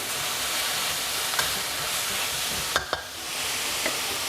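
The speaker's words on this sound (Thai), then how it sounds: "ผัดทุกอย่างให้เข้ากันนะครับ" Beef stir-fried in a pan with seasoning powder and light soy sauce, a steady broadband sizzle with a few sharp clinks of a spatula against the pan near the middle and end.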